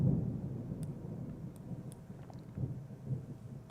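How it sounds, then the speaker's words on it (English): Thunder from a loud lightning strike during a severe May storm rumbles low and fairly faint, with a heavy roll at the start and softer swells later, mixed with rain patter. "I just heard a very loud lightning strike."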